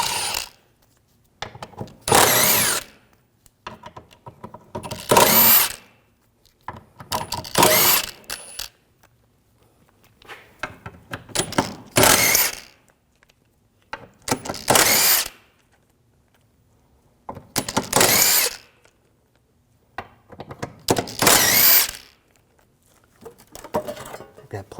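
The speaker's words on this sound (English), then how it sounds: "We're going to remove this plate, use a T50 socket, take these screws out" A power tool with a T50 socket backs screws out of an underbody plate on a 2007-2013 BMW 328i, giving about eight loud, close whirring bursts with ratcheting texture, separated by short pauses and occasional quiet talk.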